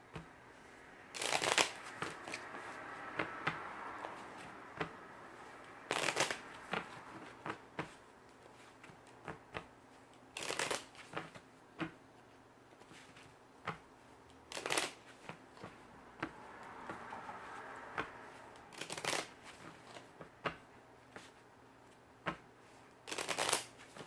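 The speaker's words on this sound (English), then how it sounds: "I'm going to get a couple shuffles and then we will get started." Tarot cards are riffled and shuffled by hand in quiet bursts, several crisp rapid flurries separated by short pauses, close and soft with no talking.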